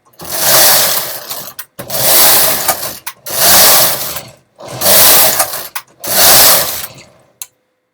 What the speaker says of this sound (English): I'm going to just knit a few rows so you can see what it looks like